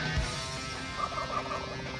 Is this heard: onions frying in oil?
no